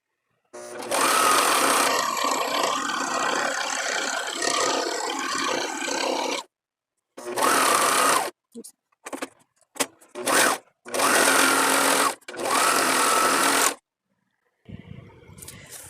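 A serger sewing machine overlocks the edges of a fabric sleeve in close, loud whirring bursts, one long run followed by several shorter starts and stops separated by silence.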